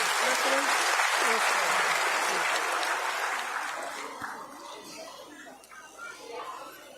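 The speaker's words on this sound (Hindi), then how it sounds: "जोरदार तालियों से उपेंद्र जी का हम" Loud applause fills a hall at a women's conference, a thick wash of clapping from a large crowd that gradually thins and fades, with scattered voices emerging as it dies down.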